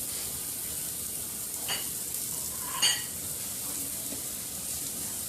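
Steak searing in a hot pan, giving a steady, close, dense sizzle that runs unbroken throughout, with a couple of faint clicks or pops rising briefly above the frying.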